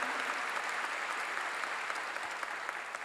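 Steady, full applause from a church congregation during a sermon, many hands clapping in a dense wash that stays even and fairly loud, tapering a little toward the end.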